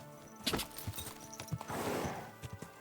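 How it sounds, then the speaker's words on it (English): Horse hooves clip-clopping in Kingdom Come: Deliverance II, a steady nearby trot of hoofbeats with a rustling swell partway through, moderately loud, with no talking. "outside the graveyard we have horse"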